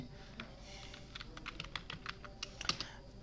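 Fingers tap quickly on a computer keyboard in a rapid, uneven burst of soft clicks, heard fairly faint and close with no talking.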